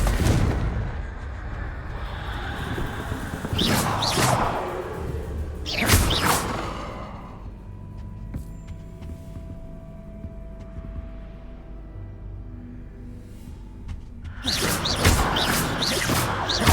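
Confringo fire spells from Hogwarts Legacy go off as loud, explosive whooshing blasts. Several land in separate bursts, some coming in quick pairs, with quieter gaps of ambient game sound between them.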